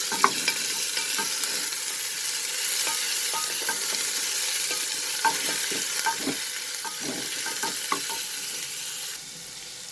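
One finely chopped onion sautéing in a pan, heard as a steady, close sizzle with frequent soft scrapes and taps of a spoon stirring throughout, no voices.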